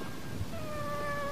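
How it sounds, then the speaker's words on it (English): A friendly cat meows with one drawn-out, rising-and-falling cry that starts about halfway through and holds to the end, moderately close above a steady low background hum. "What a handsome cat you are."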